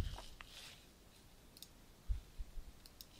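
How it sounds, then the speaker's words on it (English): Light clicking of computer keyboard keys, a few soft scattered taps and clicks at low volume in a quiet room, with no talking. "we're going to type in a little bit of information"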